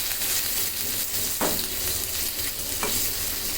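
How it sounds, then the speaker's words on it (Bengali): Canned sardine bharta frying in a pan gives a steady close sizzle with two sharp scraping strokes of a spatula, no voices. "এখন এটাকে সুন্দর করে ভেজে নিতে হবে"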